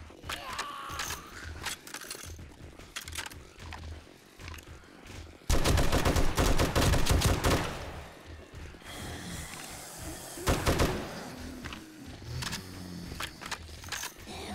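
Gunfire in the video game 7 Days to Die during a horde night, a loud burst of rapid automatic shots followed by scattered single shots and mechanical clatter, with no talk.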